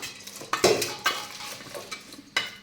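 Grated radish and raw mango being mixed with masala in a bowl, a few sharp spoon knocks and wet scraping strokes, close and fairly loud, no voices.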